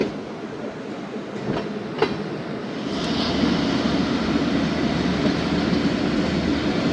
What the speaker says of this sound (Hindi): यूसुवाला पहुँच रही है दोस्तों ट्रेन।